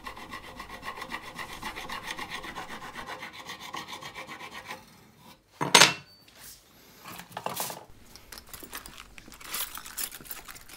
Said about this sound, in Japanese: さらにちっちゃいヤスリに持ち替えて、この部分の角を丸めてるところです